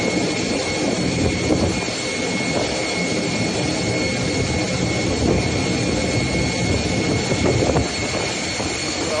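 A jet aircraft taxis across the flooded tarmac at Dubai International Airport, its engines giving off a loud, steady roar that holds at the same level throughout.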